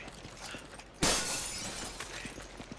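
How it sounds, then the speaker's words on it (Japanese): Window glass shattering in Resident Evil 5: one sudden loud crash about a second in, followed by a scatter of tinkling shards over quiet game ambience. "窓ガラスは割れるけどいけないね"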